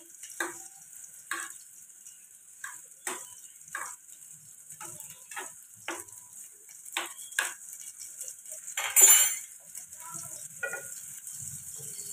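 Pieces of jackfruit fry in a pan and get stirred, giving scattered light scrapes and clicks of a utensil over a faint, steady hiss of sizzling, all fairly quiet and close.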